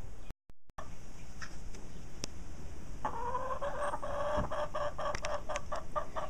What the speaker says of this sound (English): Chickens have a pleasant song to sing.